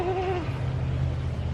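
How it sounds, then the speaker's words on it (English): Goats on a farm, penned in with dogs, give one short, clear bleat at the start, followed by low background rumble. "The goats are locked in with the dogs."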